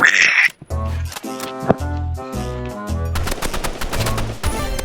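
Gunshots in the Roblox game Rivals: rapid bursts of game gunfire with sharp repeated cracks and short automatic volleys, loud and close, with a brief musical sting partway through and no talking.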